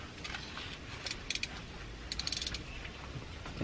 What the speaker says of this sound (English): You gotta undo this bolt.